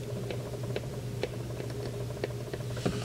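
Text typed into Apple's Freeform app, heard as sparse, light key taps spaced irregularly over a steady low hum, quiet and close, no speech.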